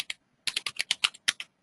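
Rapid computer keyboard typing, about a dozen crisp keystrokes in two short bursts with a brief pause between, close and clear with no talk.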